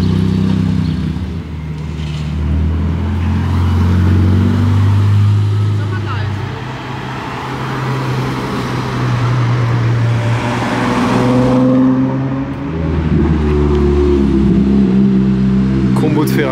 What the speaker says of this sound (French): Combo de Ferrari jaune assez sympa là.